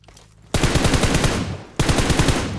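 Automatic gunfire in the shooter game PUBG Mobile, two long rapid bursts of loud, close shots separated by a brief pause.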